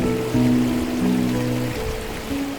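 Water rushes along a rocky stream bed in the Barranco de Azuaje ravine, heading toward a tall waterfall; a loud, close, continuous gurgling flow with shifting low tones and no voices.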